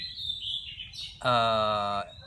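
Orange-headed thrush chicks from Bali chirp in a loud, close burst of bright, harmonically rich calls lasting under a second, after quieter thin peeps and low background rumble.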